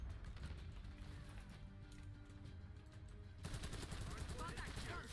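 Rapid video game gunfire rattles in quick bursts, fairly faint in the mix, partly under voices and background game noise.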